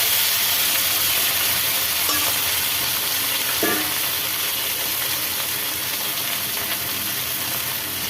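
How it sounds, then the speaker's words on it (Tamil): Steady frying sizzle of brinjal sautéing in a pan, with a couple of brief stirring scrapes partway through; no voices. "இதை நல்லா வதக்கிக்கலாம்."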